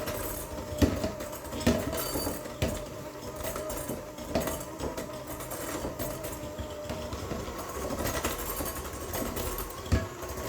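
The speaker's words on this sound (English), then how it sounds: "Now, we're going to mix that up with our mixer." An electric mixer blends sugar and ingredients for cowboy cookies in a home kitchen, giving a steady whirring drone with clinks and bumps of the beaters against the bowl throughout.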